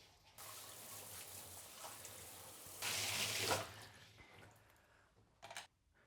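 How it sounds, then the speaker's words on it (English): Water runs from a tap to rinse residue out of a bathtub, a quiet, steady flow that briefly grows louder midway before a short clatter near the end. "So what I do first is that I rinse off all the residue that might be in your bathtub."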